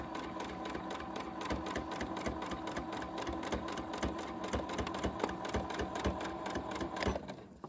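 A sewing machine runs steadily while stitching a fabric bag, its rapid even needle chatter continuous and fairly close, dying away only at the very end.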